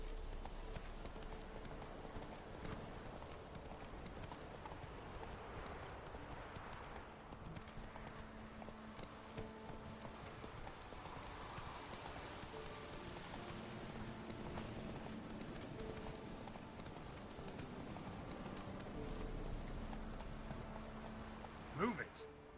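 Hooves clip-clop at a steady gallop under continuous background music in The Witcher 3, with a horse's whinny and a person talking over the game audio; the hoofbeats stay moderate and even throughout.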